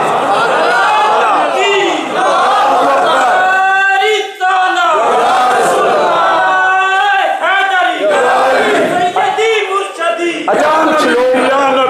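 A large crowd at a religious lecture chants religious slogans together in loud, rhythmic surges, many voices rising and falling in unison.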